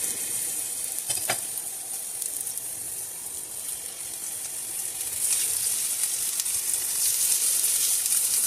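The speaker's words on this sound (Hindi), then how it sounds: "इस तरह ये आप ऑयल में इसको फ्राई करें" Italian-style stuffed jalapenos frying in hot oil, a steady close bright sizzle and hiss that swells slightly louder toward the end, with a brief knock of a utensil early on.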